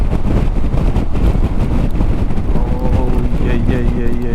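Wind roars across a microphone on a motorcycle riding along the Atlantic Ocean Road in Norway, a loud, constant buffeting rush with deep rumbling gusts throughout.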